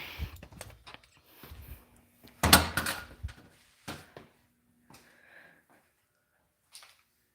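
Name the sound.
door being shut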